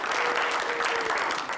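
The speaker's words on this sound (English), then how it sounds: "The sound of applause fills Judge Ian English's courtroom" A courtroom crowd breaks into dense, steady applause, many hands clapping at once, loud and close, continuing throughout without a break.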